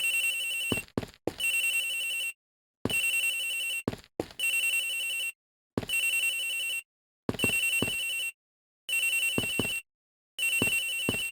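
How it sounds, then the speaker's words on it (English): A mobile phone rings in a Miles Edgeworth video game, a loud electronic ringtone repeating in regular bursts with short silent gaps between them. "The ringing is coming from somewhere around here."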